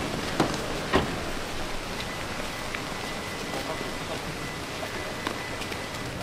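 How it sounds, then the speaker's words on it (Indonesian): Light drizzle falling outside a mosque, a continuous soft hiss of rain with a few faint drip and tap accents near the start, steady and moderately quiet with no clear talk. "hari ini agak sedikit gerimis"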